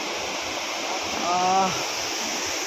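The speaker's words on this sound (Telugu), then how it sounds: "తారాబు వాటర్ ఫాల్స్ అయితే ఎట్లా ఉంటుంది, చాలా హైట్ నుంచి పడుతుంటుంది అనమాట వాటర్" A steady, loud roar of water falling from a great height at Tarabu waterfalls fills the whole clip, with a brief tonal call rising briefly above it near the middle.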